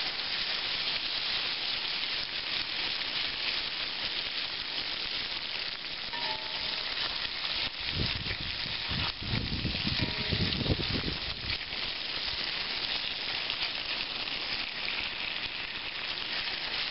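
Bacon fries in a pan over medium heat with a constant crackling sizzle throughout, joined midway by a few seconds of louder scraping and shuffling as strips are moved around.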